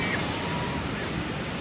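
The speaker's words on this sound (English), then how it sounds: "Here we have my friends enjoying the beach." Beach waves at Santa Cruz give a steady, broad wash of surf mixed with wind buffeting the microphone, continuous and moderately loud, with no clear speech.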